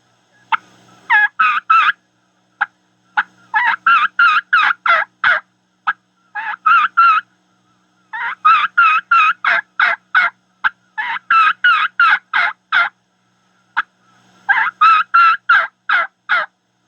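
A turkey call imitates the kee-kee run of a young lost turkey: repeated bursts of high, thin whistles followed by rapid yelps, loud and close, separated by brief silences.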